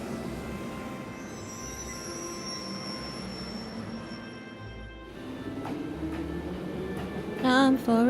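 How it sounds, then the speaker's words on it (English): Train from the video game Trails of Cold Steel: a steady rumbling ride with a continuous high squeal of wheels, building to a louder screeching surge near the end, with no talking. "Time for a train ride."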